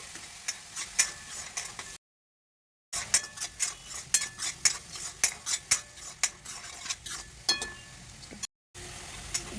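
Masala for pav bhaji stirred and sautéed in hot oil: a spoon clinks and scrapes against the pan in quick irregular strokes over a soft sizzle, with short silent gaps.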